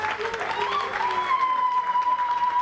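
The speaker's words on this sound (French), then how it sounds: "Nous vous accueillons avec des acclamations." An audience at a ceremony marking thirty years of surveyor-topographer graduates applauds and cheers, with clapping under a long, rising, sustained vocal cry that carries through to the end.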